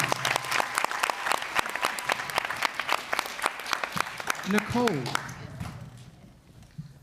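An audience gives the actors a short round of applause after a community theatre piece, with sparse, distinct claps that thin out and fade, and a voice briefly heard near the end.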